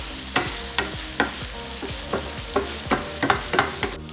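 A spatula stirs stir-fried tofu in a sizzling pan, striking and scraping in a steady rhythm of about ten strokes over a constant frying hiss, up close with no talking.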